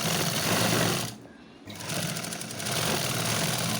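A sewing machine stitches the side joint of a blouse, running in a steady mechanical hum, dropping off briefly midway, then resuming at full speed.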